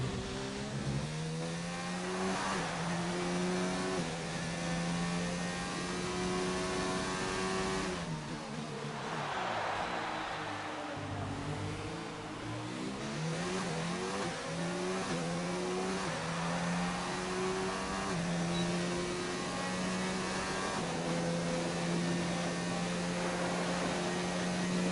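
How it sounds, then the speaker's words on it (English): Formula-style race car engine from a racing video game, a steady droning whine rising and falling with throttle inputs, a dip and recovery midway, continuous and fairly loud with no talk. "let you hear his throttle inputs and see what he's doing"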